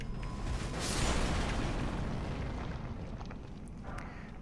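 Exploding worms in the video game Elden Ring set off a rumbling, roaring blast that swells and slowly fades over a few seconds, dense and close.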